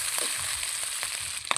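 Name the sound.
meat being stirred and fried in pan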